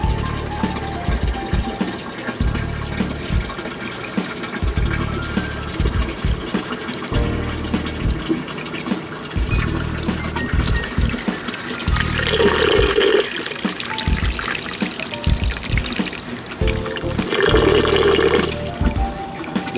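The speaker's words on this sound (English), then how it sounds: "The sound you are hearing is the bell siphon cutting off." The bell siphon of a small NFT aquaponics system breaks its vacuum, and draining water gurgles and rushes steadily, with louder sucking, slurping bursts midway and again near the end.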